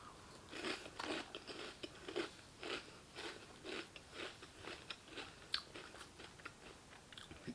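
Crunchy Boo Berry cereal with marshmallows being chewed close to the microphone, a quiet, regular series of crisp crunching bites with no talking.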